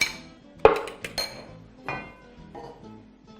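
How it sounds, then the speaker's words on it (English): A whisk works through an egg mixture in a bowl, making a few sharp, irregular clinks against the bowl's side amid softer scraping, with no voices. "you basically want to whisk your mixture until everything is well incorporated"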